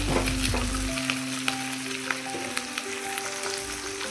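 Food sizzles and crackles steadily in hot cooking oil at close range, a dense frying hiss with occasional sharper pops and stirring, no voices.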